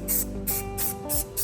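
Short repeated hissing bursts from a spray paint can coating truck suspension parts, about five quick sprays in a row, close and fairly loud, with no talk.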